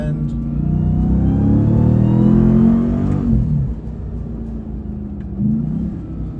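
A Dodge RAM TRX pickup's engine drops a gear, then pulls hard in a loud, deep, rising roar that eases to a steady drone, heard close from inside the cab.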